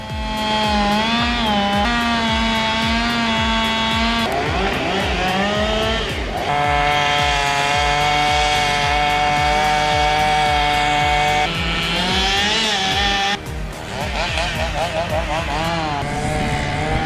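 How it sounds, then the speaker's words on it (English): Chainsaw roaring loud and close while cutting into a giant sequoia tree, its engine held at a high sustained whine with brief dips in pitch, a dense and continuous sound with no gaps. "The chainsaw roars"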